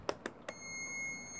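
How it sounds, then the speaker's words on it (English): Three quick clicks, then a thin high-pitched electronic beep from a buzzer meter holds steadily, quiet and close, while timing a Vire marine engine. "what you can do is use one of these buzzer meters"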